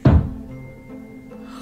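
A broomstick bangs on the ceiling from the flat above in one loud, dull thud, followed by quiet room tone.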